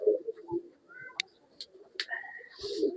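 Tara breed pigeons coo softly at close range, making low throaty rolling calls with a few faint chirps and brief wing or cage clicks between them.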